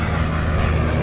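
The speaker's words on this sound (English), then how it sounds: "fighters of World War II getting airborne in the form of the Yak-3" Yakovlev Yak-3 fighter aircraft at the Duxford Battle of Britain Airshow 2022, its piston engine roaring loud and steady in a brief continuous drone as it gets airborne.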